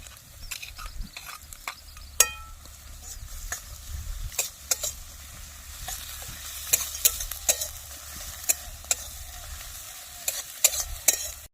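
Garlic and ginger sizzle in a hot pan while a spatula repeatedly scrapes and taps the metal in irregular clicks, no talking.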